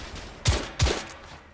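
Two loud, close gunshots ring out a third of a second apart in The Order: 1886 firefight. Each sharp crack has a booming low tail, and the second is followed by fading reverberation.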